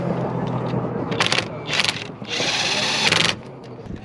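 A wheel nut is run onto a drift car at a track, with loud whirring tool bursts: two short ones, then a longer sustained run, over a background of low outdoor noise.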